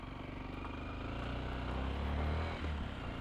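Yamaha WR155R motorcycle riding on the road, its engine drone steady and fairly close with a slight rise in revs, wind noise mixed in.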